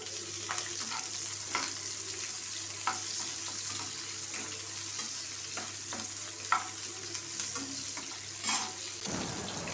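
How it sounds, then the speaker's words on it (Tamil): Sliced onions sauté in hot oil with mustard seeds, cumin, green chilli and curry leaves for carrot rice, a steady close sizzle broken by repeated scraping stirs and a brief splash of water near the end. "வெங்காயம் நல்லா வதங்கிருச்சு"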